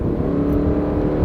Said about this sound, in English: the engine does make a reasonable amount of noise doing it because it's a boxer engine